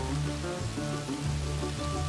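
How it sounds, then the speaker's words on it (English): Rain comes down along Pigeon Roost Trail in Arkansas, a dense, even patter close by with a steady wash underneath, alone with no voices. "Well, it's still raining."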